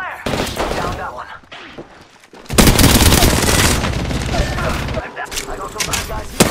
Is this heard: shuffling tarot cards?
no